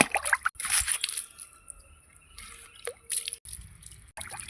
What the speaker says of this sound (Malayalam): ഇനി നമുക്ക് ചീനി ഒന്ന് കഴുകാം.